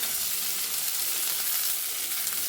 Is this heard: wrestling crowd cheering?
no